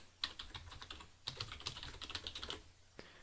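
A website address is typed on a computer keyboard: a quick clatter of key presses in two short bursts with a brief pause between, close and quiet, ending in a single firmer keystroke.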